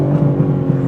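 Tuned 590-horsepower BMW M3 Touring estate rumbling loudly and steadily from close by, a deep continuous exhaust drone with slight pulsing burbles throughout.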